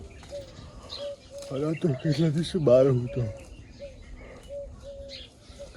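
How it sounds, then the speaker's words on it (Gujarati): Birds call in the morning on a farm, a repeated short tonal note recurring at steady intervals, moderately near, partly under a person talking. "હા પક્ષીના કલરવ થાય ને તો ઓટોમેટિક ઉઠી જાય."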